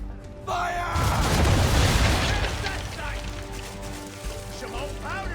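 Broadside from ship cannons in Assassin's Creed 3, a heavy booming blast that rolls into a long rumbling decay, with voices calling out beneath and after it.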